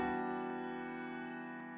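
Piano processed with FabFilter Pro Q3 EQ and a Waves R compressor, given a slight boost, one sustained chord holding close and even throughout, alone.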